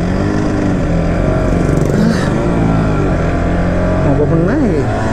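A Yamaha TZR250 3MA two-stroke motorcycle, an old model with a faulty carburetor, idles and revs unevenly, with its engine drone rising and falling beneath nearby talking throughout.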